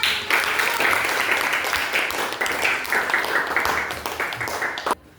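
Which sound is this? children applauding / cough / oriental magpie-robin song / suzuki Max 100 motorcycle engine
children applauding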